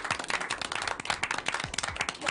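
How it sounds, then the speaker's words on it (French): A television studio audience claps for a guest on set, dense and steady applause filling the short stretch at close range. "On peut applaudir, Jocelyne."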